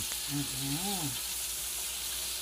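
Marinated pork shoulder frying in a pan for mechado, a dense steady sizzle with a brief voice over it.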